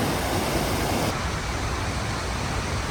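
Kamianka waterfall in the Carpathian mountains roars as a dense, steady rush of falling water, loud and close, unbroken throughout with no voices.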